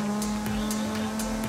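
A Nissan 350Z in Forza Horizon 5 holds a steady engine drone at constant pitch, with brief whooshes of passing scenery pulsing over the hum.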